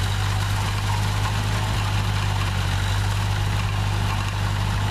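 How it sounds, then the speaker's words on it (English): A tractor mows thick growth up a bank, its engine a steady, loud low hum with a strong constant drone, running without a break and no talk over it. "he's mowing up the bank now, as you can see"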